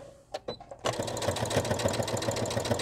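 A few light clicks and taps, then a sewing machine starts up and runs continuously with a rapid, rhythmic mechanical chatter while stitching fabric pieces for a bonnet hat, close and steady.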